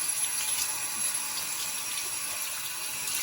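Tap water runs steadily into a sink while ink-covered gloves are washed, a continuous close rushing splash with no pauses.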